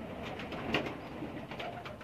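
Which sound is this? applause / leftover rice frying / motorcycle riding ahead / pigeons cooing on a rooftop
pigeons cooing on a rooftop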